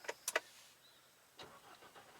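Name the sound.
car engine starting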